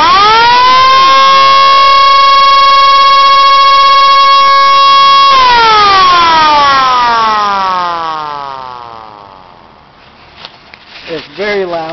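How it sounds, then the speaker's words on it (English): A loud mechanical air raid siren holds a steady wail, then winds down slowly in pitch before faint clicks and noises follow. "Right there, the air raid siren."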